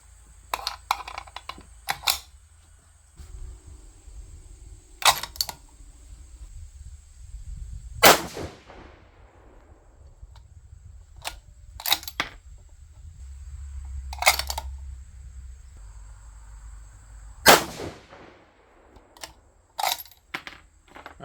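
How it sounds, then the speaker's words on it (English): A 6mm GT rifle loaded with Berger 105 Hybrid bullets fires several loud, sharp, well-spaced shots outdoors, each cracking and then ringing away, with faint handling clicks between them. "we're going to go ahead and get the gun warmed up and get the barrel fouled, and then we'll see how the Berger shoots"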